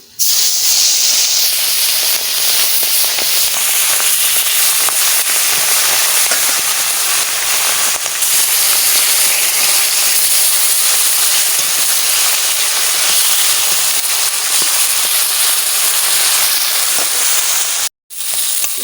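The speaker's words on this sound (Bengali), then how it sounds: "এবারটা তেলাপিয়া মাছ দিয়ে দিচ্ছি" Fish fries in hot oil with a loud, continuous hissing sizzle that holds steady nearly throughout, then cuts out briefly near the end.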